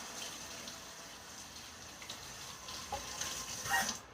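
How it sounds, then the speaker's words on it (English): Tap water runs steadily in a kitchen as a hand is rinsed, a soft continuous splashing hiss with faint clinks near the end. "Rinse off my hand real quick."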